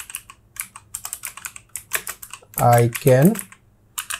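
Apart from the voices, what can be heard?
typing a prompt on a computer keyboard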